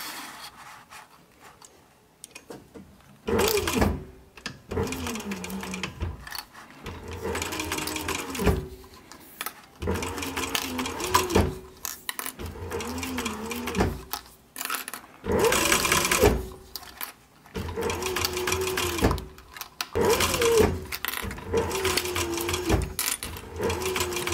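A sewing machine stitches a seam along the brim of a short brim cap, its motor whirring close in repeated bursts of a few seconds each, separated by brief pauses.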